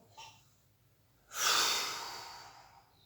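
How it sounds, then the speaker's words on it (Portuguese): During a pranayama breathing exercise for bronchitis, a short quiet breath is followed by a deep, close exhale that rises suddenly and fades slowly over about a second and a half. "Enche o pulmão bastantão."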